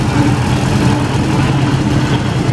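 An antique Minneapolis tractor engine runs at a tractor show in Spring Valley, Minnesota, a loud, close, steady low-pitched chugging idle with no talk over it.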